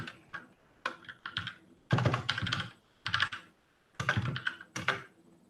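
Clattering keystrokes on a computer keyboard in irregular bursts, fairly close and moderately loud, with short pauses between runs of typing and no talking.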